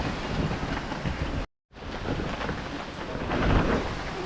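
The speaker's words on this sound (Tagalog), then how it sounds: "Lumakas na naman ang ulan." Heavy rain pouring in a steady, dense hiss with a low rumble underneath, broken by a brief moment of silence.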